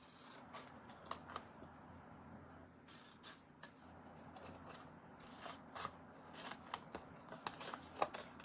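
Scissors snip through a folded paper quilt pattern in a quiet room, with a run of crisp, close cuts in irregular bursts and soft paper rustling between them.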